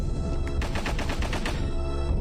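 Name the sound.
gunfire in the video game Alisa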